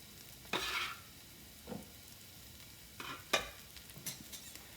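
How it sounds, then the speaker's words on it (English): Potatoes for home fries crisp in a hot oiled pan, giving a low background sizzle broken by several sharp scraping and stirring bursts close by, with no talking. "And you hear that sizzling, that's because the pan is hot."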